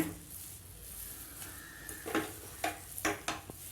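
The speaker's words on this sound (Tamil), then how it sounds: "லாஸ்ட்டாக போட்டு ஒரு நிமிஷத்துக்கு வந்து நல்லா கிளறி விடுங்க." A utensil stirs carrot semolina upma in a pan, giving a few scraping clinks against the metal over a faint sizzle, close and clear with no talking.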